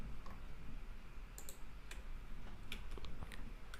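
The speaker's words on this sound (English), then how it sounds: "just press I from the keyboard" A computer keyboard is tapped in a few sparse, sharp clicks, some of them in quick pairs, over a quiet room hum with no talking.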